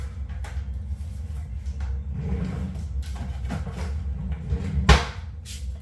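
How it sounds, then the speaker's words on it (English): A kitchen scale is put away into a drawer after filleting wild-caught bass, giving soft rattles and shuffling handling noises followed by one sharper knock of the drawer closing near the end. "Let me put my scale away back in the drawer."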